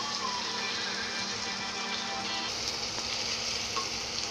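Onions fry in a pan for chicken curry with a constant bright crackling sizzle, steady and close, with no talking.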